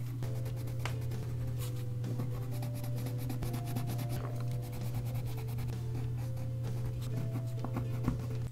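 A pen scratching across paper in steady strokes for several seconds, close and fairly quiet over a constant low hum, with no talking.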